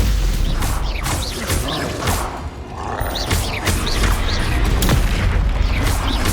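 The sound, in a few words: Confringo spell blast from the video game Hogwarts Legacy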